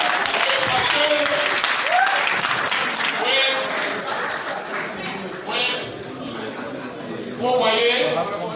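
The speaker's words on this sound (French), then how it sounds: "Il faut applaudir encore." Conference audience in Daloa applauding, a steady dense wash of clapping across the whole stretch, with voices calling out over it.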